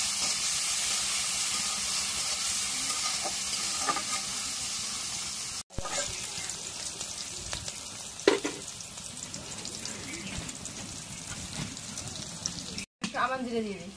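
Oil sizzles and hisses steadily in a pan holding chopped onions and green chillies, a loud continuous frying sound with a few brief clicks and stirring knocks, and a voice speaks briefly over it.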